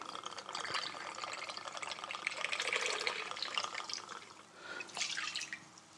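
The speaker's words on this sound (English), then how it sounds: "So I'm going to pour approximately about 300 ml of alcohol in the bowl." Dark rum poured into a bowl as a cocktail base, a steady liquid trickle and splash running for several seconds, fairly faint and close, with no talking.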